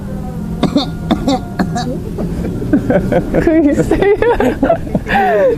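Several coughs and throat clearings mixed in among people talking nearby, with a steady background hum.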